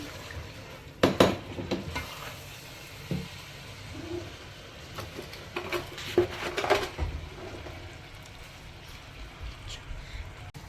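Chicken sautés in a pan for tehari with a low sizzle, broken by repeated clinks and scrapes of a spoon stirring against the metal pan, close and moderately loud.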